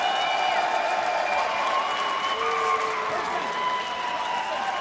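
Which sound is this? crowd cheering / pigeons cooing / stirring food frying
crowd cheering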